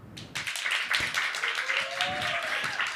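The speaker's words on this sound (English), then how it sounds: "Give some applause" Audience applause welcoming jury members at a startup demo day, a dense, sustained burst of clapping from a crowd in a hall, steady for a few seconds, with a voice briefly audible over it.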